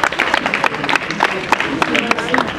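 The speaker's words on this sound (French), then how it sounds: "Les enfants, on applaudit." Schoolchildren clap together at a 2014 back-to-school event, with a dense, uneven patter of handclaps that carries on steadily, mixed with murmuring voices.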